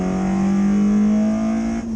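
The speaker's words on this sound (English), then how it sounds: "Got a big loud exhaust. Oh, it does sound good." A modified Honda car with a loud aftermarket exhaust drones steadily close by, holding a sustained engine tone with a slight rise in pitch across two seconds, no voices.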